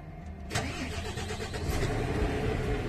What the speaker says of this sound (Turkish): Kontağımızı bir çevirelim.